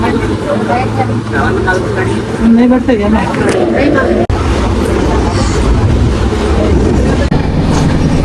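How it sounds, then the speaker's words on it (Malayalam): A passenger train rolls along the rails with a loud, continuous rumble and rhythmic clickety-clack heard from inside the carriage, while people talk nearby. "ഞാൻ രാവിലെ തന്നെ ട്രെയിനിൽ കയറി കിടന്നുറങ്ങി."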